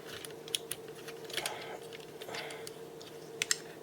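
A Kabaya Fortress Maximus plastic model kit is folded up by hand, giving quiet scattered plastic clicks and snaps with a couple of sharper clacks near the end.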